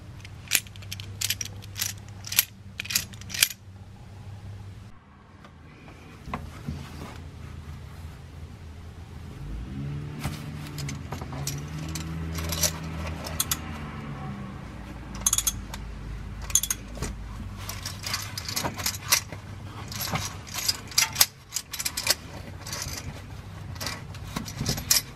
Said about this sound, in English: Picked up this universal wrench from Harbor Freight,